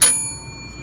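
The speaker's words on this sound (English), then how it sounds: "Oh, I gotta ding the bell." A service bell on an office counter is struck once, giving a single bright ding that rings out and decays within a second.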